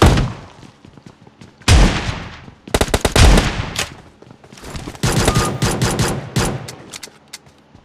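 Gunfire in PUBG, several bursts of rapid shots in close succession with short pauses between, loud and near, including pistol fire, with no voices.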